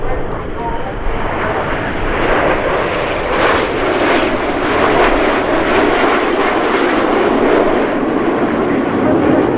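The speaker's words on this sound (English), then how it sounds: "That section of aircraft are now flying with a higher throttle setting" Red Arrows jet aircraft fly in formation at the Duxford Battle of Britain airshow, a loud, steady broadband roar that holds throughout with slight swells, while a commentator talks over it.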